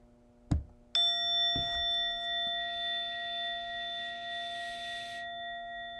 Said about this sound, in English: in a moment, you'll hear a bell or a chime